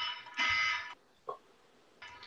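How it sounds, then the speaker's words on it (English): An electronic alarm goes off in loud, buzzing harmonic bursts: a long half-second blast, a short blip and another blast starting near the end, with quiet gaps between them. "My alarm's going off."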